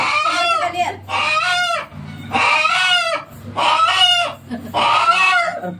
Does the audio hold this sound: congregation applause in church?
no